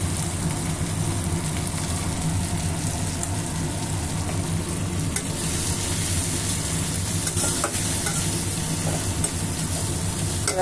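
Spices with ground coriander sautéing in a pan for a thin raw banana and hilsa fish curry, a steady close-up sizzle and frying hiss running unbroken throughout, with no talk.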